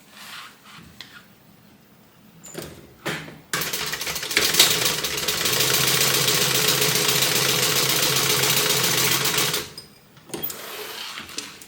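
Sewing machine stitching the gusset seam of a bag, a steady mechanical whir running for about five seconds at close range after a few short clicks and handling bumps, then stopping.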